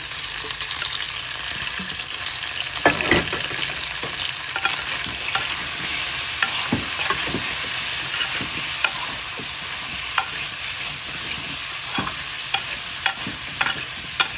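Garlic paste fries in a pan with panch phoron spices, giving a loud continuous sizzle and hiss with sharp intermittent clicks and scrapes from stirring, close by with no talking.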